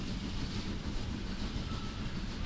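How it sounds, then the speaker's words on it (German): A TT-scale model passenger train runs past on a main-line layout, giving a steady, continuous rolling rumble with a faint clickety-clack of wheels on track. It stays at an even loudness throughout, with no voices. "Aber heute mal fürs Fernsehen hat der Zug freie Durchfahrt"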